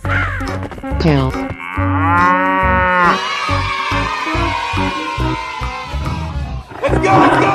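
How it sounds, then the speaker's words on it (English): A cartoon cow moos over and over in a 3D animal slide racing game, the bellows loud and drawn out. Game music and cheering voices run beneath them. "Cow."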